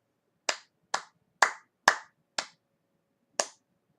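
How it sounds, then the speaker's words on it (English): Six sharp hand claps in a rhythm pattern with quicker eighth-note pairs, close and clear, then a pause before a final clap, with no talking. "I'm going to clap another pattern"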